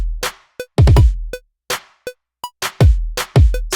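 Snare layered with a clap in a hip-hop beat, crisp cracking hits repeating in a steady groove over deep kicks and short ticking hi-hats, loud, close and free of talk.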